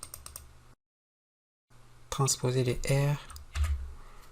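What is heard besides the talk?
typing an Excel formula on a computer keyboard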